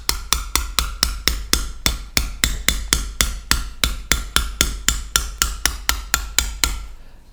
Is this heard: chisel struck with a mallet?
yes